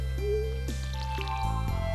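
Watering crops in Stardew Valley, a few short bubbly squelching splashes with rising pitch, spaced apart over a steady game music background, close and clear.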